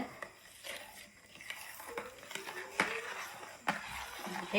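Caramel egg pudding mixture is mixed in a bowl, soft irregular swishing strokes and light clinks of utensil against the container, quiet and close with no voices.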